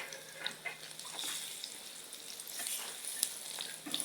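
Banana slices frying in a pan, with no sugar added, make a soft, steady sizzle with small crackles and pops. The sound is fairly quiet and continuous, with no one speaking.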